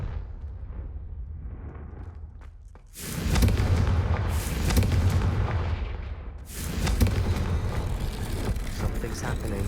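A Confringo blasting spell bursts in the Hogwarts Legacy video game: a sudden loud, broadband blast erupts after a quiet stretch, sustains with heavy rumble, and is followed by a second booming surge with crackling debris.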